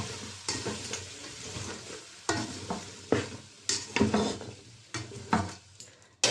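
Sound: stirring winter vegetables frying with spices in a pan

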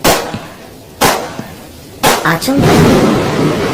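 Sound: three gunshots

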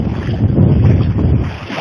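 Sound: waves crashing against rocks on the shore

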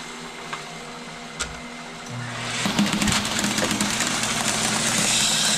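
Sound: planter seed meter disc and vacuum running

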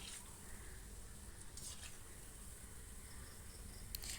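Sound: palm fritters frying in oil

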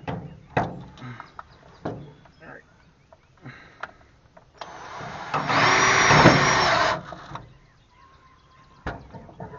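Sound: driving self-tapping screws with a power drill

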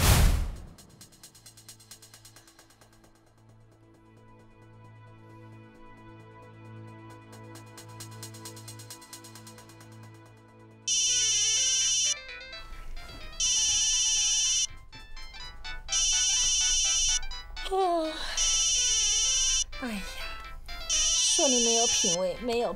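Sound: mobile phone ringtone ringing late at night

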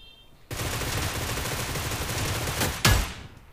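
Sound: gunfire in the video game New State

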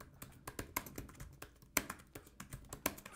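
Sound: typing ad text on a computer keyboard

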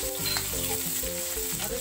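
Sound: cumin and garlic sizzling in hot oil

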